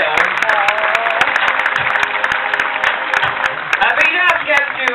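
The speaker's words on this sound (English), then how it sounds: "You can give her a proper clap for that, you know." Audience at a sea lion show at Pleasurewood Hills applauds steadily throughout, a broad sustained clapping with scattered sharp claps, with a voice talking over it.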